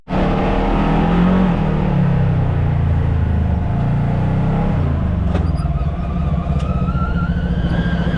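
A 1000-class side-by-side engine drones steadily while driving the Buffalo Mountain and Devil Anse trails, a loud, close, continuous rumble with slight shifts in pitch as it rolls along.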